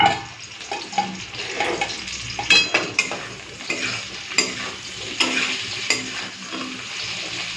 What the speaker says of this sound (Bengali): একবারে আলুও ভাজা হবে মশলাও কষা হয়ে যাবে